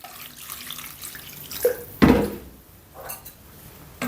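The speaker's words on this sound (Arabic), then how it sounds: "وهلا بضيف عليهم شوية مي" A splash of water is poured into a spice mix of ginger, curry and salt for a stretched roasted chicken, a short gushing pour standing out over low kitchen background noise.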